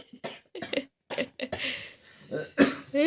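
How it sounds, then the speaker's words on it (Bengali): A man coughs in a series of harsh, close bursts with short gaps between them, ending in rougher throaty hacks. "বাবা কাশির স্টাইল দেখো"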